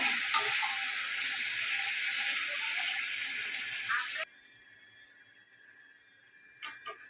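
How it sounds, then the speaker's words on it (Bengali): Chicken biryani masala, already well fried, hisses and sizzles steadily as a little masala-rinsing water is poured into the hot pan. The sizzle stops abruptly partway through, leaving a faint background with a brief stir near the end. "এবার একটু অল্প করে জল দিয়ে দিচ্ছি মশলা ধোয়া জলটা"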